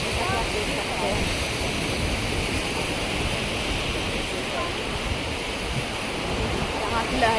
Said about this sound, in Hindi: यहाँ पे थोड़ी ये है कि लहरें कम हैं, ये जो लहरें हैं ना गाइस, ये थोड़ी कम है